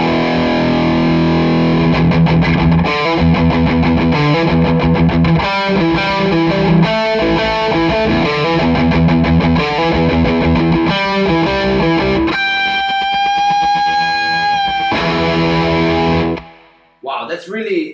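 A Gibson Les Paul electric guitar played through heavy distortion, loud rhythmic strummed chords and chugging bursts, ending on a ringing sustained chord that fades before a short noise at the end.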